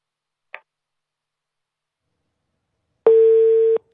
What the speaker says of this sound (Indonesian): Sayang sekali kita terputus sambungan telepon